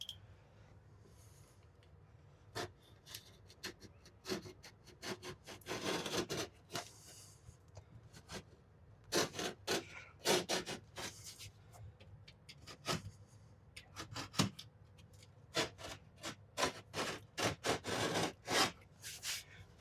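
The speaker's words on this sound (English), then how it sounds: "So what we're going to do is V-notch the drywall on both sides here." A utility knife cuts V-notches along the edges of a drywall patch, making quiet, irregular scraping and scratching strokes in quick clusters across a long stretch with no talking.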